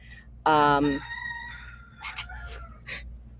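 A rooster crows once, loud and close, followed by a few softer clucks and faint vocal sounds against a quiet background hum.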